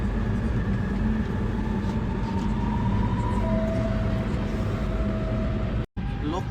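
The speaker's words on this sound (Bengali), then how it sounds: "এই মেট্রোটা মাটির প্রায় 6 তালা বিল্ডিংয়ের যেমন উঁচা হয় এরকম নিচে দিয়ে যাচ্ছে, অনেক নিচ দিয়ে যাচ্ছে এই মেট্রোটা।" Deep underground metro train running through its tunnel, a steady loud rumble and roar that fills the whole stretch, broken by one brief drop near the end.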